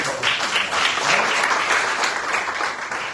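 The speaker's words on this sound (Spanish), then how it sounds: "Y un fuerte aplauso al Señor." Loud, dense applause from a church congregation praising the Lord during a service, sustained evenly throughout without any speech over it.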